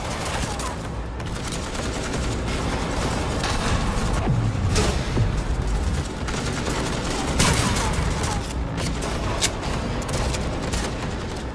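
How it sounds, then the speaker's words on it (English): Rapid gunfire bursts and booming impacts in the video game Cyberpunk 2077, with bullets ricocheting off walls toward enemies behind cover; dense, loud, continuous combat audio with sharp peaks throughout. "This allows players to bounce bullets off walls and hit enemies hiding behind cover."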